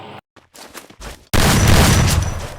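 Video game gunfire sounds as a headshot lands: a few faint sharp pops come first, then a loud sustained burst of blasts rings out close and fades slightly.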